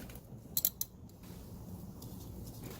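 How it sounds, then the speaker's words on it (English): Wrench work loosening the bolts on the trailing arm of a totaled Acura RSX Type S: a few sharp metallic clicks and creaks near the start, then quiet ratcheting and mechanical handling, close and fairly faint, with no talk. "Loosening the bolts for the arm."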